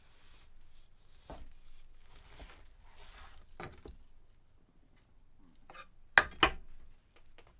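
A knife slices across the fat of a piece of meat on a cutting board, quiet soft cutting strokes followed by two sharper clacks of the blade near the end.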